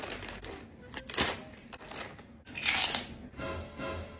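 Crunchy, spicy fried squid being bitten and chewed up close, with loud irregular crackling crunches coming in bursts, and a little faint talk in the background.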